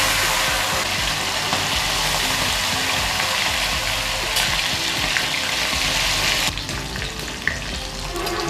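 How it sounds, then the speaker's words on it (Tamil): Pieces of kanava squid frying in hot oil, a loud, dense, continuous sizzle close by that eases slightly near the end, with occasional sharp pops and no voices. "இப்போ எண்ணெய் சூடாயிடுச்சு. கனவா பொரிச்சு"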